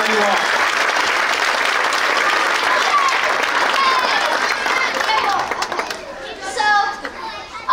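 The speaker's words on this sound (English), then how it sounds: "Give them a round of applause." Audience applause for a kids' cast after a Frozen children's stage show, loud dense clapping mixed with cheering and children's voices, thinning toward the end as chatter takes over.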